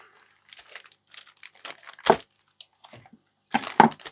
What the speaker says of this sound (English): so I'm just going to cut this bag open here.